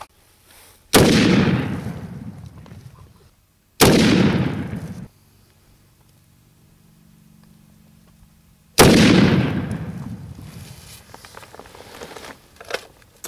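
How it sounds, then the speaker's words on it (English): Three thunderous .50 caliber armor-piercing rounds are fired at an EarthCo Megablock wall from about thirty feet. Each booming blast rolls off slowly, with irregular gaps between shots and a faint rumble in the quieter stretch. "Thirty feet, four shots, armor piercing into about a 4-inch circle."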